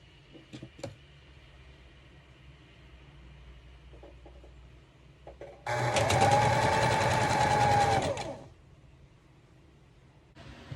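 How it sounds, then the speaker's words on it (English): A sewing machine stitches a strip of swimwear fabric in one loud, steady run of about three seconds with a whirring motor tone, set between quieter stretches of faint handling noises. "when you finish to sew your strip"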